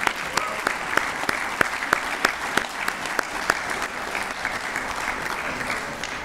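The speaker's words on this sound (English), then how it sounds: "let's give them a round of applause" A dense burst of applause from an awards-night audience for two record-holding anglers, with loud sustained clapping from a full room and a few sharper claps standing out.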